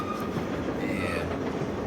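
A passenger train on the Trans-Siberian Express rolls along in a continuous, close rumble with a rhythmic clatter of wheels on rails and no voices over it.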